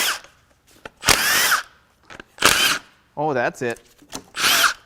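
A power tool spins out the bolts holding the turbo to the head of a Jeep 2.0L Turbo Hurricane engine, in several short, loud, whirring bursts separated by pauses, with someone speaking briefly between them.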